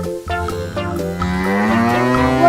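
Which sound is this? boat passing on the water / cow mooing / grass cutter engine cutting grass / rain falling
cow mooing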